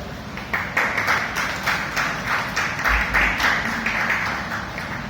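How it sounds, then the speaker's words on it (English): Applause at a Toastmasters club meeting, a small audience clapping in steady, moderately loud bursts that continue without pause across the whole stretch. "please give her a big round of applause"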